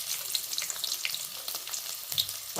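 Garlic frying in hot oil, a light, soft hiss with scattered tiny crackles and pops, close by and fairly quiet.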